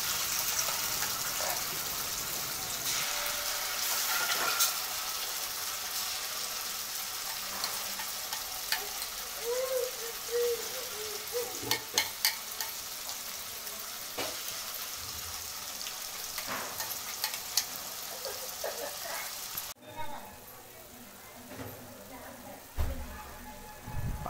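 Ground masala paste with garlic sautéing in hot oil gives a continuous frying hiss with scattered stirring scrapes and clicks, while a voice talks faintly in the background at times.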